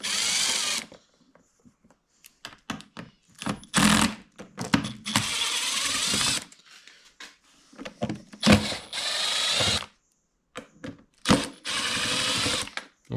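Captive screws being unscrewed from the service cover of a Champion 2500 dual fuel inverter generator, model 201183, making bursts of close, ratcheting mechanical clicks and whirring separated by short pauses, with no talking.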